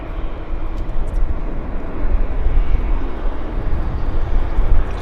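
An Air Canada airliner arriving from Mexico City at Vancouver Airport gives off a continuous low jet engine rumble, moderately loud and steady, with no voices.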